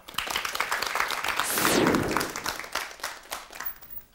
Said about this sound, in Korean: 우탁 씨 이야기 박수로 청해 듣겠습니다